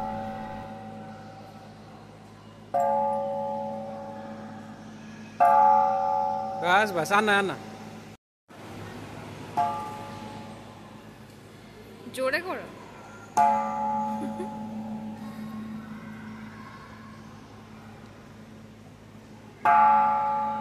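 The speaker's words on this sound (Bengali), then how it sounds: "এখানে অনেককেই দেখছিলাম এই ঘন্টাটা বাজাতে" A large Buddhist temple bell at the Shwe Tha Lyaung reclining Buddha is struck several times, each clang ringing out and slowly fading, with voices talking between the strikes.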